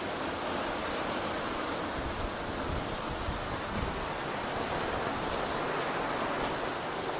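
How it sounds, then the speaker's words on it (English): Heavy rain falls outdoors in a steady, even hiss that stays loud and close throughout, with no voices over it. "Rainy."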